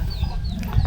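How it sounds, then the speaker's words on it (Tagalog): Chickens being fed in a backyard coop cluck and stir in a close, continuous low chatter, getting a little busier toward the end. "samahan niyo ako magpatuka ngayon ng manok"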